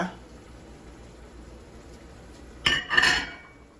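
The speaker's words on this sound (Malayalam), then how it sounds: "നമ്മൾ ഉണ്ടാക്കി വെച്ച കഴുകി വെച്ച അരി അതിലേക്ക് ഇട്ടു കേട്ടോ" Washed rice tipped into a pot of tomato rice: a quiet stretch, then a short burst of clattering and a soft rushing pour near the end, with no speech.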